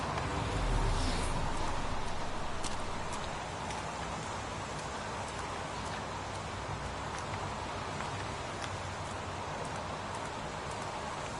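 Steady rain patters and hisses across a surface, with scattered louder drops, constant and moderately close throughout.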